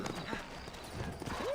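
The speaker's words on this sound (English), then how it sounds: "You ain't gonna find sturdier horses than these in all of New Ulster." Horse hooves clip-clopping in Red Dead Redemption, several quick, irregular steps close by, partly under a voice.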